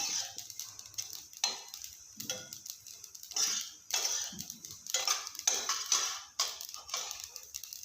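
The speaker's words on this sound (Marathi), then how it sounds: "तीळ छान असे उडायला लागलेले आहेत त्यांचा आवाज यायला लागला आहे तिळांचा" Sesame seeds dry roasting in a pan, crackling and popping in irregular bursts with occasional scraping of stirring, close and moderately loud with no talk.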